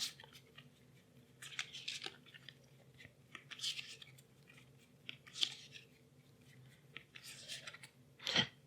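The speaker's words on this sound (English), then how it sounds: "So you take the starting hand and shuffle it." Cards from a starting hand in a Power Rangers deck-building game are shuffled, giving quiet, repeated bursts of papery riffling and rustling spread over several seconds, with a sharper snap near the end.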